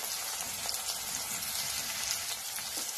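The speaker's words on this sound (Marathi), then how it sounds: "आता हे चांगलं भाजून घ्यायचं" Onion and tomato fry in a pan for masala bhindi, a steady close sizzle with crackling pops filling the whole stretch, no voices.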